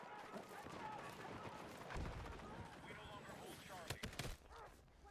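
Video game gunfire crackles in quick bursts, faint and distant under a voice talking, with a sharper cluster of shots near the end.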